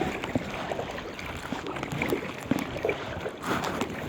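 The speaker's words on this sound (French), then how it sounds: "Ce que vous entendez derrière, c'est une moto marine." A distant jet ski engine drones steadily over rushing water and wind, running off in the background on the Saint Lawrence River, Quebec.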